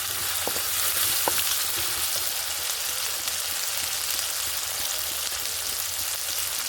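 Ghugni sautéing with turmeric in a pan, a steady close sizzle and crackle of frying that runs unbroken throughout, with a few sharper pops near the start.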